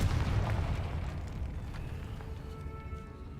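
A Confringo spell explosion in a Harry Potter video game inside a tomb: one loud, deep blast right at the start, rumbling and slowly fading over a few seconds, with no talk.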